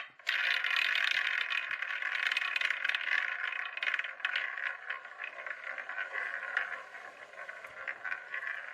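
A quiz wheel spins with a steady rattling, ticking clatter that runs continuously for several seconds and gradually thins as it slows, close and moderately quiet with no talk.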